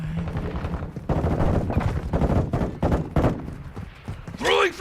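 Rapid bursts of light machine gun fire in the Modern Warfare 2 multiplayer shooter, loud and dense over game sounds and player chatter, continuing for several seconds.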